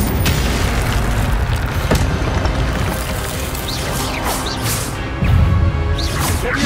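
Booming fire spell blasts from Hogwarts Legacy, the Incendio spell going off in loud bursts, with a heavier thump near the end over a dense game soundscape.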